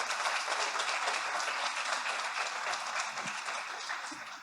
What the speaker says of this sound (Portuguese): pedir uma salva de palmas ao Senhor Jesus